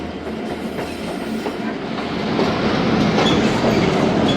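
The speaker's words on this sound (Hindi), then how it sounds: "ग्यारह बजकर 40 पर दोस्तों ट्रेन का अराइवल हुआ है बखर रेलवे स्टेशन" The Thal Express rolls into Bakhar railway station, a close, steady rumble of carriages with faint clickety-clack that grows slightly louder toward the end, with high squeals flickering through.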